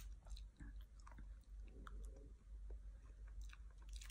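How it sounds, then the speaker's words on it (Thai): Someone chews fresh raw vegetables and bitter neem shoots close to the microphone, with repeated crisp crunching bites and wet mastication. The chewing is quiet and steady, and nobody speaks. "อันนี้เสียงมันดังจากผักหรอกเคี้ยวใหม่สิเคี้ยวแบบไหน"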